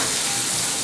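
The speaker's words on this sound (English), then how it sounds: "You don't want to be chopping while your garlic is burning." Garlic frying in a pan gives off a steady, dense sizzle and crackle, close and even throughout, with no voices over it.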